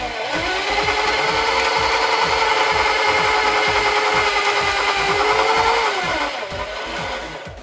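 A power drill bores a hole into a clamped piece of wood, a loud continuous grinding whir with rapid rhythmic chatter, running for several seconds before winding down.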